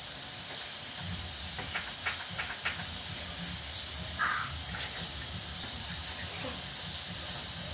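Chicken simmering in a covered pot of boiling water gives a steady, fairly quiet hiss with faint scattered bubbling ticks, continuous throughout with no talking.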